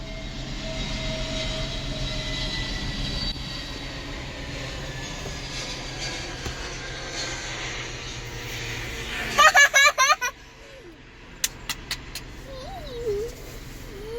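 An airplane passing near Cochin airport at Nedumbassery gives a broad, steady roar that slowly fades, followed by a few sharp clicks and chirps, with faint voices in the background.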